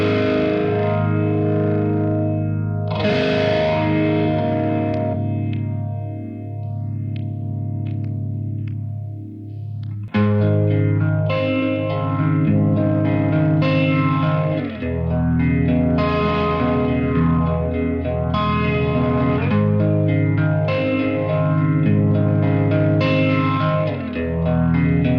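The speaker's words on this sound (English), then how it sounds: "now we've got vintage phaser." An electric guitar through the vintage phaser setting of a BOSS MD-200 modulation pedal: sustained chords and picked notes sweep with a slow, repeating whooshing swirl, loud and close, with a short quieter pause before strumming resumes, no talking.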